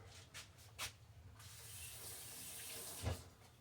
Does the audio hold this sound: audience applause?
no